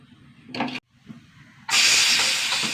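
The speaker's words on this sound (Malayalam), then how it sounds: "രണ്ട് വിസിൽ" A pressure cooker on a home stove lets out a short puff of steam, pauses, then breaks into a loud, sustained hissing whistle close by, with no one speaking.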